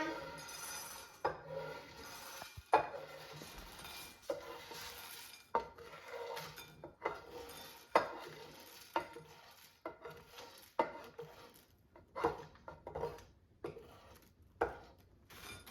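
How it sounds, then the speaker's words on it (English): A metal utensil scrapes and clinks against a frying pan at an irregular pace, with soft rattling of buttered fried Cheerios being moved and lifted out. "And now let me take them off the frying pan."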